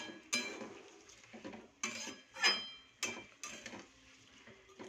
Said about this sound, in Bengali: তেলের সাথে মিক্স করব।